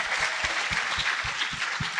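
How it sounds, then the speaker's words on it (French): Applause from an audience for a man named Patrick Brunet, a steady, moderately loud wash of clapping with no talking, lasting two seconds. "J'aimerais ça qu'on donne bonne main d'applaudissement à Patrick Brunet."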